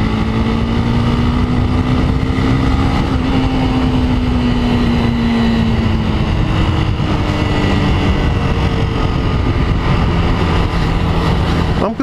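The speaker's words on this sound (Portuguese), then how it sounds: "Vamos acelerar, Ravina!" Engine of a motorcycle revving hard as it accelerates, a loud, continuous roar with a rising and falling pitch that stays close throughout.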